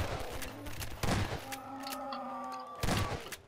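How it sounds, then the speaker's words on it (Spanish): Gunfire in the video game Garry's Mod comes as a burst of sharp, loud shots, including a rapid volley near the start and single cracks around one and three seconds, with a tonal hum lingering between them. "Oigo disparos, pero nada más"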